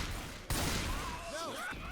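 Bursts of video game gunfire crackle as players shoot at the spitter, a sharp volley kicking in partway through with voices talking over the shots.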